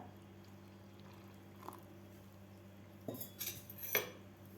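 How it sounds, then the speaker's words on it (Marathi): Half a cup of water poured into sattu flour in a bowl, heard as a quiet kitchen clink followed by a short splashy pour and a spoon scraping, all faint against a low background hum. "आता यामध्ये घालायचं आपल्याला अर्धा कप पाणी सुरुवातीला."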